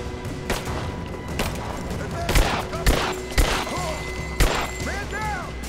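Gunfire in the Rise of the Tomb Raider video game, a scattered series of sharp shots and impacts at moderate loudness amid ambient game sound and brief tonal effects.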